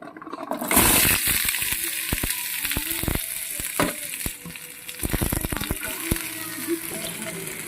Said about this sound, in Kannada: ಈಗ ಟೊಮೆಟೊ ಉಳ್ಳಾಗಡ್ಡಿ ಎಷ್ಟು ಹುರ್ಕೋತೀನಿ ರೀ